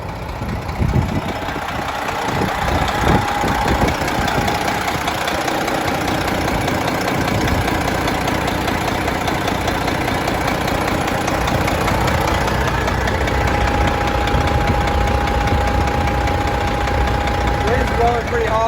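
A Detroit diesel idles steadily in a 2014 Peterbilt 389 glider daycab, a continuous close rumble with hard wind buffeting over it throughout.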